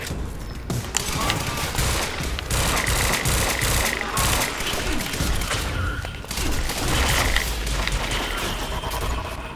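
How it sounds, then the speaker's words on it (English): Enemy gunfire in the video game Quantum Break, a dense, sustained barrage of rapid shots and impacts layered with game effects, loud and continuous throughout. "They're shooting at me."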